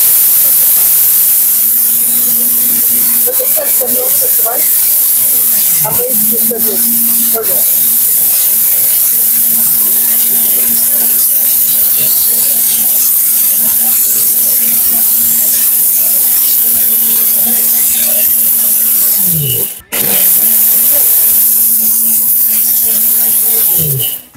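A blender grinds rice and lentils into besan flour with a steady, loud motor whine and gritty hiss. The motor stops briefly twice and restarts, and there is no talk over it.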